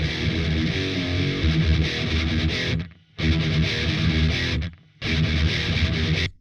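Heavy distorted electric guitar chords played in bursts through an Audiority Solidus VS8100 amp simulator, thick and saturated, with two short silent breaks between phrases.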